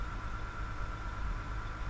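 Cat D8R bulldozer engine idling, a steady low diesel rumble with an even mechanical hum and no talk over it.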